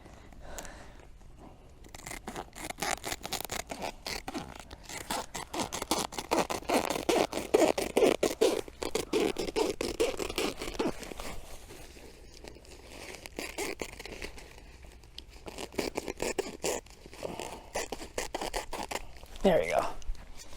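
Material being cut and torn into a long strip outdoors on rented flower-growing land, with bursts of ripping and crinkling that rise and fall across the clip, under and between a person's talk.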